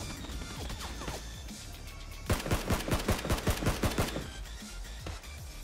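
Gunfire from the battle royale game PUBG. A few scattered shots come first, then a fast, loud burst of rapid automatic fire lasts about two seconds and fades out. No one speaks.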